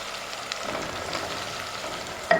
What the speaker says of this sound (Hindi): तकरीबन 300 ग्राम कीमा है। इसको मैं थोड़ा सा फ्राई कर लूँगी